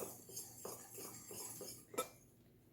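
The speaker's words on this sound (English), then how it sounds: "Just whisk it all together." Coconut flour, baking soda and salt whisked together in a bowl, a quiet scraping with a steady repeating rhythm of strokes and a few light clinks against the bowl, close and alone.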